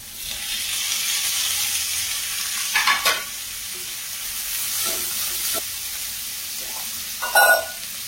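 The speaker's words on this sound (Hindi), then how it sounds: "एबे हमें ऐड करिबा टमाटो।" Tomatoes sizzle steadily in masala paste in a kadai for kadai paneer. Louder bursts of hiss and scraping come as the mix is stirred, heard close up with no voices.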